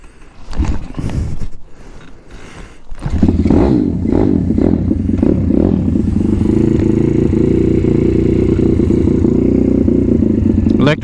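An M2R RF160 road-legal pit bike starts up and settles into a loud, steady close-up engine drone after a few seconds of clattering and sputtering.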